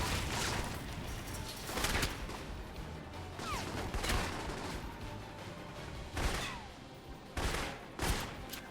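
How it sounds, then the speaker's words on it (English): In the Alpha Protocol video game, a grenade explosion comes amid a dense, fairly quiet barrage of sharp gunfire-like cracks and bangs, with several stronger bursts spaced irregularly through a constant noisy background. "That's a grenade."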